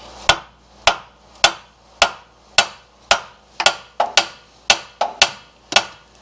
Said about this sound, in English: I found a plastic hammer. It feels pretty heavy though.